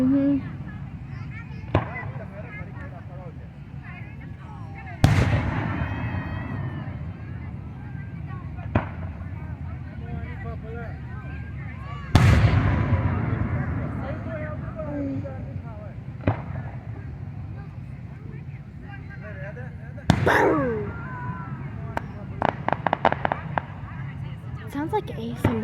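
July fireworks explode outdoors: sharp loud bangs come several seconds apart, with smaller crackles and pops between them, while people talk quietly throughout.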